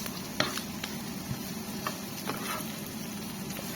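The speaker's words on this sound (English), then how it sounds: "Stir it in, just stir fry it." Sausage stir-frying in a pan, with a steady close sizzle and faint popping, plus occasional light scrapes and taps of the spoon as it is stirred, and no voices.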